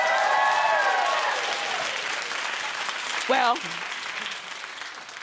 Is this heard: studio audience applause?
yes